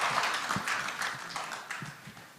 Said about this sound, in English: Please, as they go back to their seats, give them a round of applause.